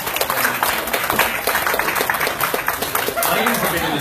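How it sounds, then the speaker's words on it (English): Applause for the MC at a fintech social event, lively clapping mixed with cheering and voices from a crowd, fairly close and continuous. "If we could just get an even bigger round of applause for our awesome MC, Peter Diamond."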